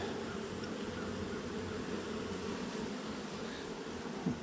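Honeybees from a hive split with a laying mated queen buzz in a continuous, even drone close by, with no talk over them.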